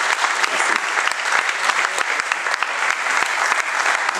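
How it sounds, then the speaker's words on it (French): A studio audience applauds steadily, with dense, even clapping that holds at a constant level throughout and has no voices over it. "Je crois qu'on peut applaudir Joël pour sa gentillesse."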